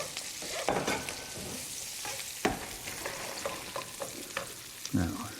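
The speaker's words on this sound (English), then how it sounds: "This asparagus needs to be stirred." Asparagus stirred in a pan on a home stove, a gentle sizzle broken by scraping and clacking strokes of a utensil at irregular intervals, fairly quiet and close, with no talk.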